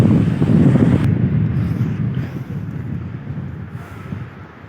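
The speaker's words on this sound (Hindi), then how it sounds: "ठंडी ठंडी हवा चल रही है, बर्फ़ भी पई है" Cold wind gusts hard against the microphone at snowy Ratti Gali base camp, a loud buffeting rumble that eases slightly, heard alone without talk.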